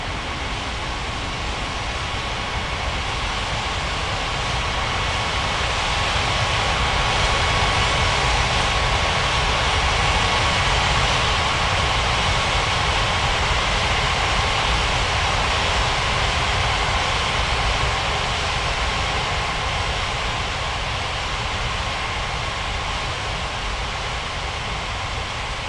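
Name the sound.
airliner taking off in air traffic control video game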